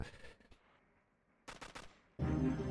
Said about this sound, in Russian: С пулеметом он меня ректит